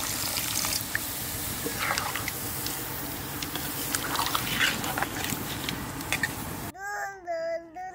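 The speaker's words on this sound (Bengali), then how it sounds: "এবার জল দিয়ে দেবো।" Water is poured into a pot of chicken cooking with sour spinach, making a steady, bubbling, splashing trickle for several seconds before it stops and a voice speaks.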